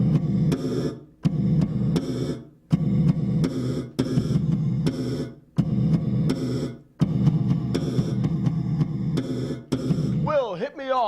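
Bass guitar played through a gated reverb, loud rhythmic chords in short bursts with abrupt cutoffs between them, ending with a wobbling, pitch-bending swirl.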